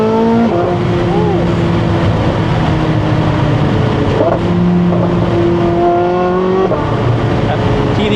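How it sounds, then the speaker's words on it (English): A Porsche Carrera GT engine revs loudly from inside the cabin, with the pitch climbing and dropping through gear changes, and a voice talks over the roar. "All right, we're in the Carrera GT right now."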